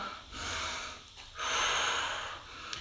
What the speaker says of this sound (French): Prenez le temps de respirer, de refaire descendre le rythme cardiaque ici.